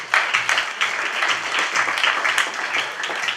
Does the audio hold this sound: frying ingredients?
no